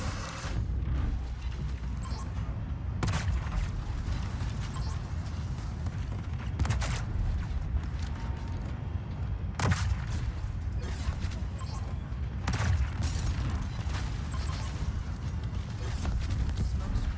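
Ship guns booming in the naval combat game World of Warships, a series of sharp broadband blasts spaced every few seconds over a dense, steady low rumble of engine and battle noise.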